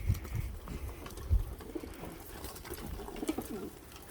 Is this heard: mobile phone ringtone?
no